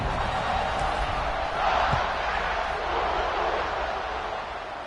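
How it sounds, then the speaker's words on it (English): A football stadium crowd buzzes after a score, a dense continuous roar of many voices with a slight swell in the middle and a commentator talking over it. "this crowd is buzzing after that last score"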